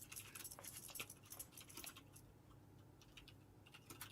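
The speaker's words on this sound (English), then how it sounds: "I hear typing." Fast, faint clicking of keys on a computer keyboard during a Counter-Strike esports broadcast, an irregular clatter of taps, busier at first and then sparser, over low background hum.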